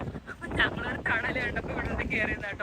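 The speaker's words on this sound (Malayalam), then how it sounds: "ഇവിടെ ഭയങ്കര കാറ്റാണ് കേട്ടോ." Strong outdoor wind buffets the microphone in continuous rumbling gusts while someone talks over it close by.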